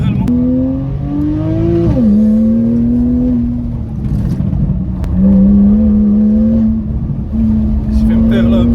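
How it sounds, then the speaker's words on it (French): Porsche 911 flat-six engine screaming at high revs on a race circuit, loud and close, its pitch holding steady, then dropping sharply as it shifts before climbing again in sustained, continuous bursts. "vous laisser juste profiter de ce flat six qui hurle."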